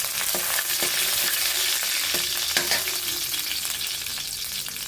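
Mustard seeds splutter and curry leaves sizzle in hot oil for an ivy gourd stir-fry, a loud continuous hiss broken by sharp crackling pops close up, with no voices.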